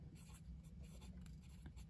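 A Pilot Kakuno fountain pen with a medium nib scratches faintly across paper in quick repeated strokes, close and soft, with no talking.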